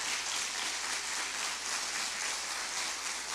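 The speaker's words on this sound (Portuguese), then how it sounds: "Pode aplaudir o Senhor, pode aplaudir o Senhor." A church congregation applauding: dense, steady clapping from many hands, fairly loud and even throughout, with no voices over it.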